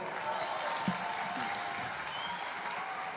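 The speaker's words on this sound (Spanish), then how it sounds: "El aplauso para ellos, por favor." An audience at a live Ayacucho folk music show gives a steady round of clapping that carries on evenly throughout, with a few faint voices mixed in.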